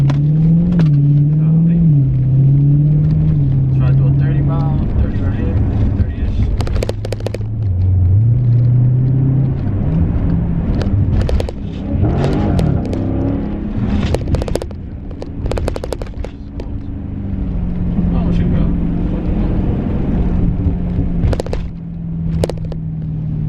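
A modded Dodge Challenger/Charger Scat Pack V8 accelerating hard, its engine rising and falling through gears with loud rumbling and sharp crackling pops from inside the car, heard at close range.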